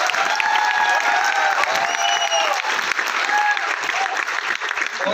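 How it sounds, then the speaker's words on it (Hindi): Loud, dense applause from a large audience at a motivational event, sustained and even throughout with some cheering and a few voices mixed in. "अपलायंस के लिए एक बार जोरदार तालियां दो"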